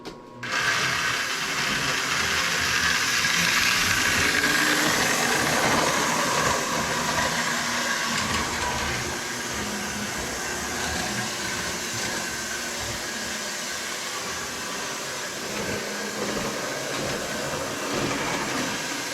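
A small Lionel toy train motorized unit runs steadily, giving a continuous whirring, clattering mechanical drone that stays fairly even and close, without talk.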